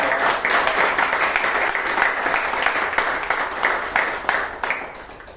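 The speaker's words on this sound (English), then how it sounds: "So please give Vijay and Rajdeep a huge round of applause." Audience at a Bangalore Toastmasters meeting applauds two speakers, a dense, steady round of many hands clapping that carries on loudly throughout and tapers slightly near the end.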